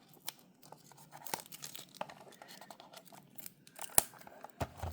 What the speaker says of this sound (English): I cut the box. Okay, let's just peel it off.